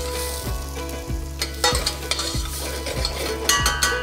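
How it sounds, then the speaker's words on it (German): Onions or shallots sweat gently in moderately hot fat in a pan, a soft steady sizzle with a periodic stirring scrape and light utensil clinks, close and continuous with no talking. "Das Fett nicht zu heiß werden lassen. Die Zwiebeln schwitzen wir leicht an."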